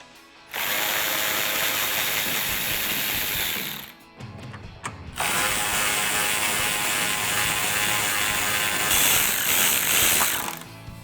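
A ratchet spins out 10mm bolts holding a RAM 1500 pickup's headlight, with two long bursts of rapid clicking whirr separated by a short pause, close and loud.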